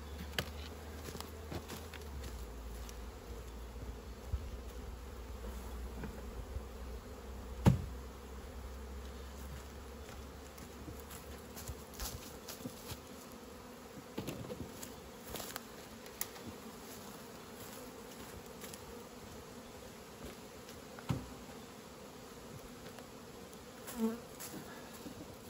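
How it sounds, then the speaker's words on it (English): Bees buzz inside a box being moved beside another hive box, a faint continuous hum with occasional small knocks and handling noises throughout. "I could just dump these bees out here, but we'll put them over next to this other one."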